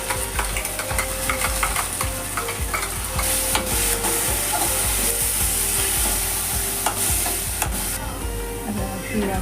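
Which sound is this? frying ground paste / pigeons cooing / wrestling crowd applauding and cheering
frying ground paste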